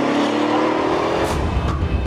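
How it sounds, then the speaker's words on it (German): A Dodge Magnum pulling away hard, its loud exhaust roaring up close and then easing off as the car accelerates away, with no voices. "Dann beschleunigt er weg."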